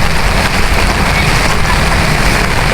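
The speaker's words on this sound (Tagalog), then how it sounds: "Bumuhos ang napakalakas na ulan." Heavy typhoon rain pours down in Marikina, a dense, steady roar of drops drumming on surfaces and umbrellas, loud and continuous throughout.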